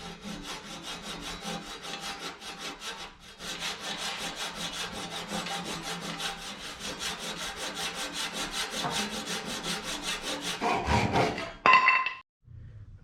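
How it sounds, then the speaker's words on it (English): Hand saw cutting back excess glued-in wood on a boat mast spar in a garage, a steady rapid rasping run of strokes for most of the clip, growing louder near the end before a brief stop. "I've trimmed off as much excess of this piece I glued in as I could just with the saw"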